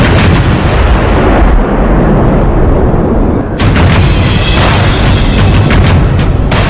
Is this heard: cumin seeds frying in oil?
no